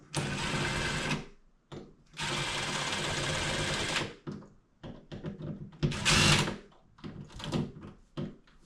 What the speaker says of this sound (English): get our drill, our impact with our Phillips head